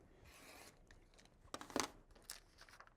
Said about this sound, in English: I'm actually going to cut these 2 diagrams apart.